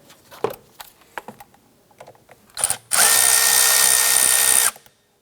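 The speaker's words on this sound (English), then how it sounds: "We're going to start by loosening the two 8mm hose clamps here" A power driver on a Nissan Versa intake tube loosens 8mm hose clamps, starting with scattered clicks and handling taps, then a loud steady whir for almost two seconds before stopping.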